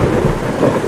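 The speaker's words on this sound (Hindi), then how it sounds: "अरे ये अचानक इतनी तेज बारिश कहाँ से आई?" A cartoon sound effect of sudden heavy rain with thunder: a loud, dense, continuous wash of rainfall with low rumbling swells throughout, and no voices.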